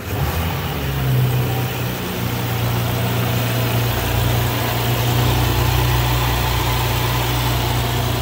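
A 2018+ B9 Audi S5 engine starts and runs at a steady idle after a spark plug change, a constant low rumble with a faint vibration, close and fairly loud, with no voices.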